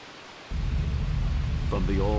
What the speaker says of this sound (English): one day, a terrible storm beset the village.